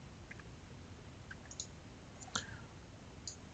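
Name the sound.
pressing the G key or spacebar on a keyboard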